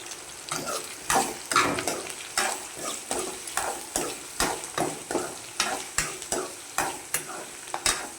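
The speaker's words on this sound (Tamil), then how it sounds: "தேவையான அளவு சால்ட்டு போட்டு நல்லா வதக்கி விட்டுருவோம்" Chutney ingredients sautéing with salt in a pan, stirred in quick, regular scraping strokes about twice a second over a constant close sizzle, with no voices.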